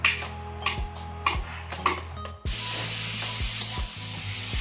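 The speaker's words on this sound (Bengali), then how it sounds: "সোয়াবিনটা ভাজতে বসিয়ে দিয়েছি" Soybean chunks sizzle in a frying pan: a few sharp, regular taps at first, then a sudden, steady loud hiss of frying that carries on with soft ticks.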